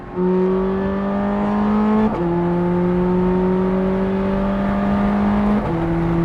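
A Ferrari with a single-clutch F1 gearbox drones steadily from inside the cabin, its engine note dropping and jumping abruptly at two gear changes as it downshifts on the road.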